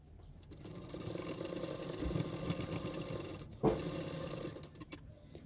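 A sewing machine stitches the folded sleeve of a boat-neck princess-cut blouse in a steady, continuous whir that stops briefly near the end, close and moderately loud.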